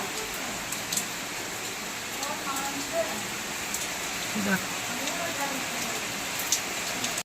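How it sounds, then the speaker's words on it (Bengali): Morning rain patters steadily outside in a constant hiss of drops on surfaces, with a short spoken word heard over it. "সকাল সকাল বৃষ্টি শুরু হয়ে গেল,"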